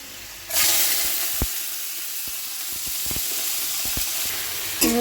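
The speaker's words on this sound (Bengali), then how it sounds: "তেলটা বেশ গরম হয়ে গেছে করব উচ্ছে কুমড়ো ভাজা" Steady loud sizzling of bitter gourd and pumpkin frying in hot oil tempered with black cumin seeds, with a few soft clicks of stirring and a brief clatter near the end.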